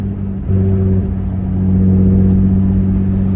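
Loud engine of a Nissan 350Z on stock suspension while driving, a deep steady drone that rises in pitch briefly and then settles into a stronger, louder rumble as the car pulls along.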